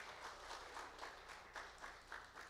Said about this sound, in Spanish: Denle un fuerte aplauso a la hermana.